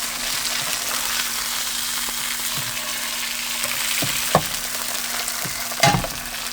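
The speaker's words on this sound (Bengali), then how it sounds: "এই পাশে মাছ ভাজা হবে।" Korean sea fish fries in a salted pan with a steady, close crackling sizzle throughout, broken by a few sharp clicks and pops as it shifts, with no one talking.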